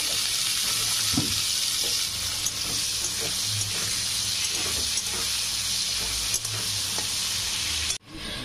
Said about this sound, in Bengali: এবার এখানে আমি ডুম্বুরটা ভেজে নেব।